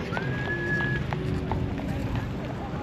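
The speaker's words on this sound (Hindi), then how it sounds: "पार्क के अंदर एक घोड़ा गाड़ी भी थी" Horse-drawn carriage in a New York City park, hooves clip-clopping steadily in the background amid busy street ambience, a passing whistle-like tone and nearby voices.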